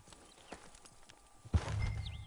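Horse hooves clip-clop faintly in Red Dead Redemption 2, then a horse snorts and whinnies loudly toward the end over game ambience.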